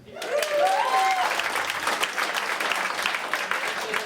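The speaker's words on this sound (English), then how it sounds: "Round of applause if you have children" An audience breaks into applause, a dense, close burst of clapping that swells quickly and then holds steady for a few seconds.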